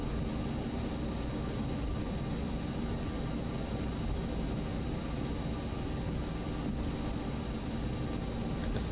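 An airplane engine hums steadily while the plane taxis in a flight simulator game, a continuous even drone at constant loudness with no talk.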